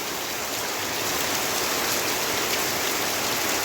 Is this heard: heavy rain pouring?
yes